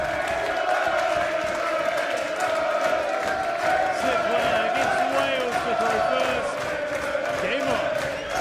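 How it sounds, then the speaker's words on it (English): A packed darts arena crowd at an international pairs finals night cheers loudly and continuously, a dense roar of voices, whoops and clapping, with a commentator talking over it. "that might well be the biggest cheer we see tonight"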